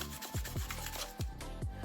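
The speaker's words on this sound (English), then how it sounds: "I then peeled off and sanded the sheets." Rapid back-and-forth rubbing strokes of abrasive sanding on stainless steel sheets, repeating in a quick rhythm, close and fairly loud.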